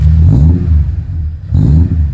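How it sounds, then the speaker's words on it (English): Ford AU Falcon straight-six fitted with Pacemaker 4480 extractors, blipped twice: two short, loud revs close by, each rising then dropping back, with a brief lull at idle between them. "Nah, little revs, go."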